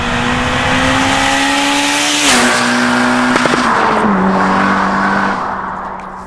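A Porsche drives past nearby with a loud, revving engine whose pitch slides down as it goes by, and the sound thins away at the end.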